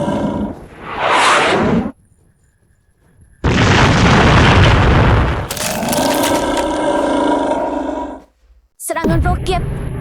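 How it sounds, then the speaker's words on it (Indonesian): A rocket attack explosion in an animated cultivation fantasy battle, a deep roaring blast followed by a long, loud rumbling boom and crackling debris, with a brief silence before a final sharp burst. "Serangan roket."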